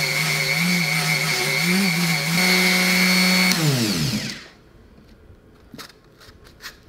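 A TOPSHAK TS-SD2 130W mouse detail sander runs on stained wood, a loud steady whirring buzz that winds down and stops, followed by a few faint knocks.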